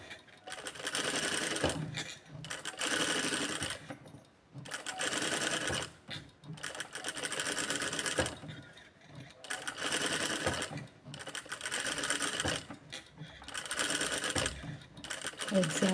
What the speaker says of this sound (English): Lift your pressure foot and stitch it completely.